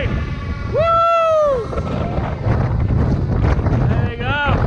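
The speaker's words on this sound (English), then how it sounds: "it's still very windy" Gusty wind at Hunstanton on the English coast buffets the microphone with a low, rough rumble, while excited voices and whistling calls rise over it.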